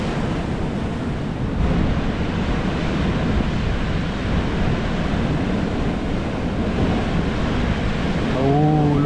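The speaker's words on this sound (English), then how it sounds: "look at the wave, look at that. That's huge." Strong Atlantic waves crash and surge along the Fuerteventura coast in the Canary Islands, a continuous loud roar of surf mixed with heavy wind buffeting the microphone.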